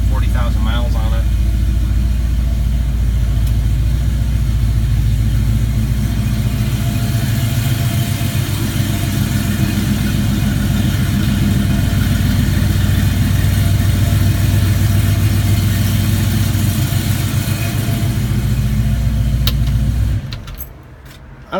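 A 1967 car's 396 engine with about 40,000 miles and strong oil pressure idles steadily, a loud, even low rumble running unbroken for about twenty seconds before it drops away near the end.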